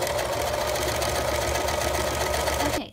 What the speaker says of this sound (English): Okay, sew along the top edge.